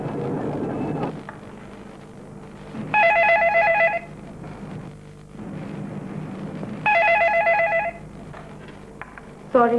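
A telephone rings in two separate bursts, each about a second long and several seconds apart, over a low hum of room noise. No one speaks.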